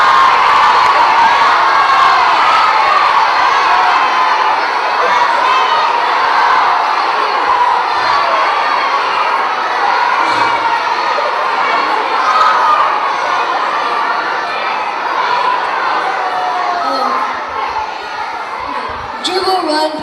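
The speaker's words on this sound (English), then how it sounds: "The crowd goes wild" A loud, dense crowd of children cheering and shouting at a school soccer event in Hawaiʻi, sustained and close for the full stretch with excited whoops rising throughout.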